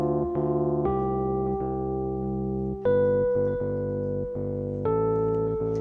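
A MIDI synth melody played over a repeating bass riff, sustained tones changing in steps every second or so with clear attacks, clean and alone.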